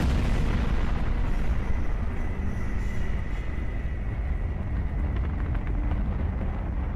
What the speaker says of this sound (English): Engaging retro thrusters now.